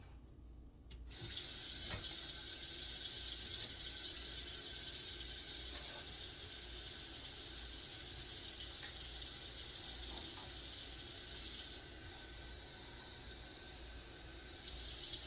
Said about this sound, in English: we're gonna put some water in here too